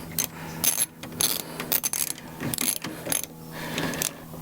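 A ratchet tightens a part of a 1995 Golf MK3 door lock, making close, bursty clicking and metallic ratcheting in short irregular runs with brief pauses between strokes.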